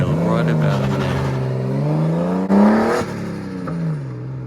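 A Nissan R32 Skyline pulling away with a loud, close engine drone whose pitch climbs steadily as it accelerates, with a brief sharp change midway before the tone settles and eases off.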